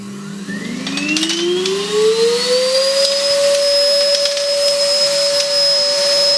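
A pellet vacuum feeder fan motor spins up with a rising whine that climbs and then holds steady, a loud, close, continuous whir.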